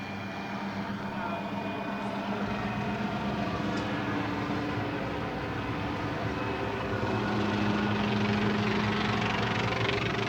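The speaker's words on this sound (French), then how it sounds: "l'hélicoptère décolle pour rechercher d'éventuels chenaux d'eau libre" Steady low rotor and engine drone of a helicopter taking off from the ship Calypso, constant and moderately loud throughout, building slightly toward the end.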